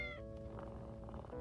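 A cartoon cat in an animated series meows once, a short clear tonal call followed by softer vocal sounds, close and alone with no talk.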